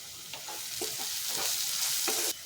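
A spoon scrapes and stirs spices such as garam masala, Kashmiri red chilli and kasuri methi in a hot pan, with a soft sizzle under several distinct scraping strokes, fairly quiet and with no talking.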